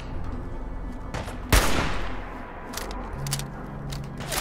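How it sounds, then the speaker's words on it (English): A single loud gunshot cracks out in Fallout 4 gameplay, decaying quickly into a faint background of quiet game ambience. "What is with the shooting?"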